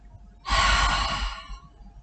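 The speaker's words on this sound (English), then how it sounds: "then you exhale through the mouth" A person exhales through the mouth after holding the breath during a yoga abdominal-lock exercise: one close, breathy exhale lasting about a second in an otherwise quiet room.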